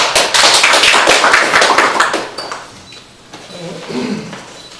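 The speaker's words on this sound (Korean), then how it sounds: "박수로 환영하겠습니다" At an academic paper presentation, a small audience claps in welcome for the presenter, with crisp, close claps that swell and then fade out after a couple of seconds before a voice speaks briefly near the end.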